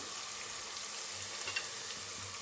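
Onions frying in a pan until golden brown for vegetable pulao give off a steady, faint, even sizzle with no voices.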